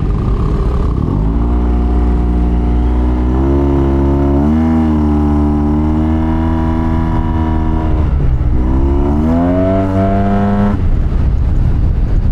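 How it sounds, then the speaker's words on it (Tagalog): A Yamaha TMAX 560 scooter fitted with an aftermarket exhaust revs hard, its deep bassy engine note rising and falling through several throttle blips, loud and close throughout. "exhaust niya hindi siya ganun kaingay na alam mo yung masakit sa tenga. Hindi siya ganung level. Ma-bass lang siya."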